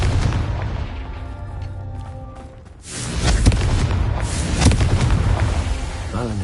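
A Confringo fire spell explodes in Hogwarts Legacy, a loud booming burst hitting about midway after a quieter lead-in, followed by a sustained rumbling blast with crackling debris.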